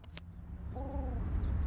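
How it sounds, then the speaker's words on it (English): A chicken in the video game TOEM gives a short, tonal cluck-like call, briefly sounding over a low steady background hum with faint chirpy game ambience. "Wow, it just straight up is a chicken."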